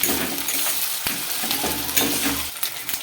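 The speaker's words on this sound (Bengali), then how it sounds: "ক্যাপসিকামটা দিয়ে ভালোভাবে এখন কষাবো" Capsicum sautéing in a pan for egg chilli gives a steady, close hiss of frying with a few light stirring clicks and scrapes.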